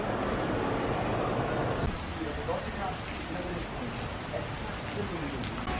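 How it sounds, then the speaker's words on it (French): Dense, steady rain hissing across the whole clip in Sarajevo, loudest at first and then a bit softer, with faint voices of people sheltering murmuring underneath. "comme c'était prévu, ça pleut à verse, tout le monde est abrité"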